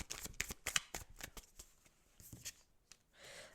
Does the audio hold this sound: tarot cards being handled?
yes